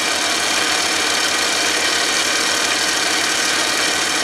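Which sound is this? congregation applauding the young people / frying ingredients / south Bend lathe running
south Bend lathe running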